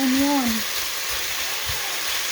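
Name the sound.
onion and garlic frying in hot oil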